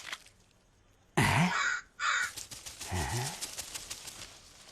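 A crow caws at night in a dramatized street scene: two harsh, loud, close caws in quick succession, followed by a rougher trailing call over quiet background noise.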